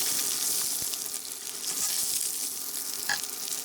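An egg fries in a pan with a steady, close, bright sizzle that continues without a break, joined by a few faint clicks and pops.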